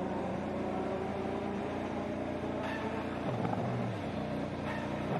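An IndyCar engine idles roughly and blips at the 2024 Long Beach Grand Prix street circuit practice while the driver struggles to find reverse, a close, steady mechanical rumble with a pitch dip midway.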